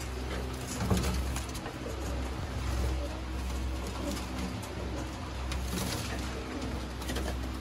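A pair of golden pigeons (kabootar) cooing in a loft: soft, low, throaty coos repeating under a steady hum of background noise, fairly faint and close.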